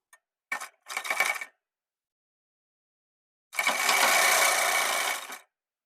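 A sewing machine stitches the folded waistband of a pair of men's underwear, first in two short bursts of rapid needle clatter, then a longer steady run after a pause.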